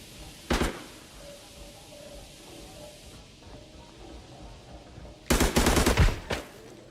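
Gunfire in the shooter game Arena Breakout: a short sharp burst early on, then a longer rapid automatic volley near the end, over a faint background hum.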